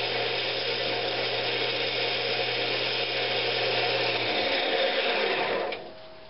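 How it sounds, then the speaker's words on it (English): Sandpaper pressed against a wooden Christmas ornament spinning on a lathe, a steady close rasping hiss over the motor's hum that holds evenly and then eases off as the lathe winds down. "I'll just hit each grit, go through and sand everything up really good"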